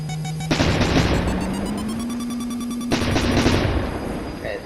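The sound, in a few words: machine gun firing in the video game Neo Warfare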